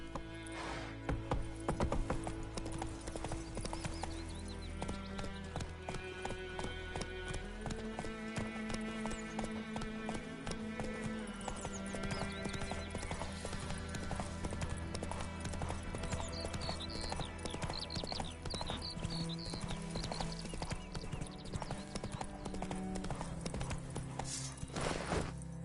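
In The Witcher 3, a horse gallops with fast, steady clip-clopping hooves alongside background game music, continuous and prominent throughout, with no talking.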